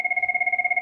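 A mobile phone rings with a steady electronic ringtone, a pulsing two-tone pattern repeating rapidly and close, loud and alone with no talk.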